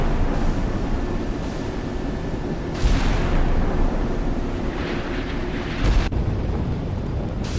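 Naval battle in the video game Sea Power, with a Hobart-class destroyer firing while badly damaged: a dense, continuous roar of explosions and weapon blasts, with several sharper bursts standing out from the rumbling wash.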